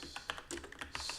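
Quick, quiet keystrokes tap on a computer keyboard in an irregular burst during an evening Lisp programming session, close and soft with no voices.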